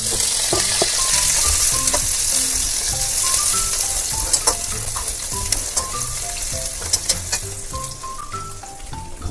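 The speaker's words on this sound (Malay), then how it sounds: "kita akan tumis bawang" Onions sautéing in hot oil in a pan, a steady bright sizzle and crackle running throughout with occasional clinks and stirring knocks, close and fairly loud with no talking.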